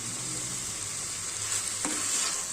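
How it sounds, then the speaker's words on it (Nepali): Paneer with salt and spices is stirred and fried in a pan for matar paneer, giving a steady, even sizzle with one brief scrape of the spoon partway through. "पनिरमा नुन मसलाहरू राम्रोसँग लाग्ने गरी यसरी चलाउँदै हामी केही समय भुट्दै गर्छौं।"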